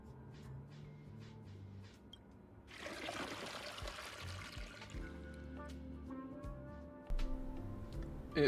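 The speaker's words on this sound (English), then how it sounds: "It did not just have a flushing sound." A toilet flushes in the Honkai Star Rail video game, a burst of rushing, gurgling water that starts suddenly and drains away over a few seconds, with game music and effects around it.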